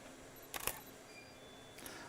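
A camera shutter fires for an interior exposure of a home, a quick double click near 0.6 s followed by a softer single click later, close and crisp against a quiet room.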